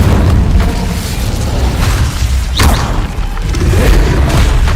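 An Incendio fire spell bursts in Hogwarts Legacy, a loud booming blast with crackling roar that fills the whole stretch, a sharp flare in the middle amid dense combat rumble.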